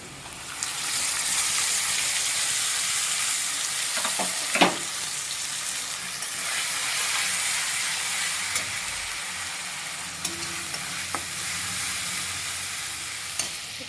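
Onion, garlic, ginger and ground spices sautéing in a pan for a jackfruit and potato curry, a loud continuous sizzle with intermittent stirring knocks close by.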